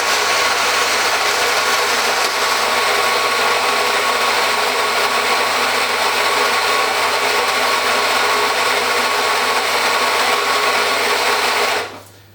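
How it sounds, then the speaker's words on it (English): A Rancilio Rocky coffee grinder grinds beans with a loud, steady motor whir held for about twelve seconds, then cutting off abruptly at the end. "The switch for starting the grinder is underneath."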